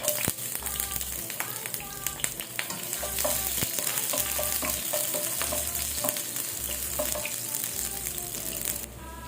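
Garlic sizzles steadily in hot cooking oil for a chicken feet dish, a loud, close frying hiss broken by repeated clinks and scrapes of stirring.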